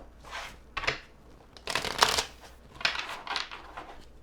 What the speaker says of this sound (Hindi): लेट्स सी, एक शफल और।